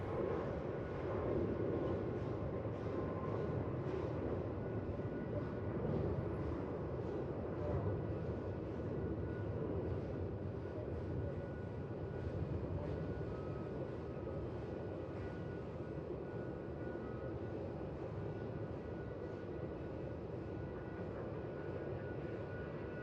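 An airplane landing on runway 16 at Melbourne Airport, a steady, loud broadband engine roar with rumble that holds for the whole stretch, heard from nearby with no talk.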